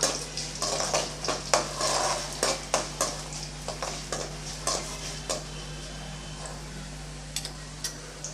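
Dried red chillies, torn in halves, sautéing in a pan for mango pachadi: repeated sharp scraping strokes of a spoon against the pan over a continuous sizzle, close and rhythmic.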